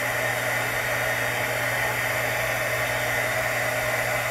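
A heat tool melts embossing powder on a craft frame, blowing a loud, steady whirring hiss without a break, with no speech.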